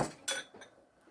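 Spoon clinking against a bowl while heated water and raw honey are stirred for Italian bread dough, a few quick bright taps that fade, quiet and close with no talk.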